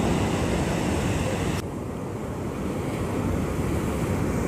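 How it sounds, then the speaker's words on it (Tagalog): Ocean surf rolls and washes onto a sandy beach at Liwa Beach in San Felipe, Zambales, a steady loud roar of breaking waves with wind buffeting the microphone throughout. "Bigger wave."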